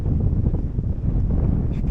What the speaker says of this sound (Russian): Такой сильный ветер дует.